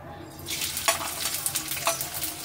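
Onions sizzling and frying in hot oil in a kadhai, a steady crackling hiss with a few stirring scrapes and clinks, close and fairly loud throughout.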